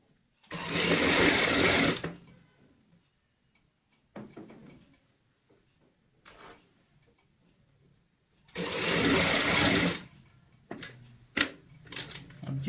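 A sewing machine stitches along the edge of a round cushion cover in two loud, steady bursts of about a second and a half each, with a few soft clicks and handling knocks between them and no talk.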